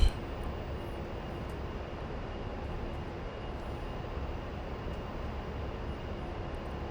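An A-10C jet's engines drone steadily in flight in a combat flight simulator, a constant faint broadband hum with no distinct events and no talking.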